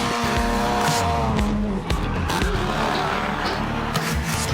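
Loud screeching tires of a racing car sliding on a track without slick tyres as its engine roars close by, continuous throughout.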